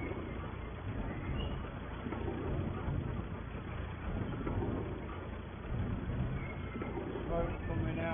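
A farm tractor runs a cattle feed mixer loaded with concentrate, its engine giving a steady rattling mechanical drone that continues throughout while people talk over it.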